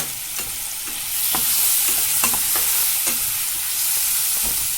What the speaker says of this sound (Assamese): মই ঢাকনি গুচাই আৰু এবাৰ লৰাই দিম